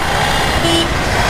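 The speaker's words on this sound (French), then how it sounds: "là je suis dans le trafic de New Delhi" Dense, loud road traffic roars in New Delhi, with engines rumbling and a brief car horn toot rising out of the constant noise.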